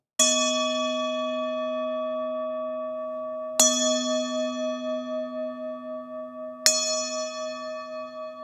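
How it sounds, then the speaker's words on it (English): Three chimes struck during a yoga session for seniors, each a clear metallic ring spaced about three seconds apart, the tone ringing on and slowly fading between strikes, with no voice over them. "Chimes are fading away."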